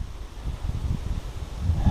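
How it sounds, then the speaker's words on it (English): Strong gusty wind outdoors during old fence removal, buffeting the microphone in low, uneven rumbling surges that build toward the end, with no talking. "But the wind's a little too strong now."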